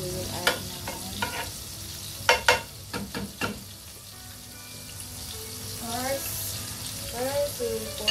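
Melted butter sizzles softly in a pan for fried rice while a utensil scrapes and clacks against the pan in a few sharp stirring knocks, and a voice speaks briefly near the end.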